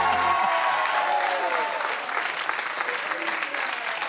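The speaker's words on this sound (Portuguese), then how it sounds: "uma salva de palmas" A studio audience at a Portuguese late-night comedy talk show breaks into loud, sustained applause, a dense wash of clapping that holds steady for several seconds after brief music cuts out at the start.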